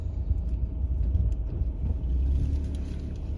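A Jeep Gladiator with a Centerforce dual friction clutch crawls slowly up a steep hill at about walking pace, its engine a low steady rumble close by with no one speaking.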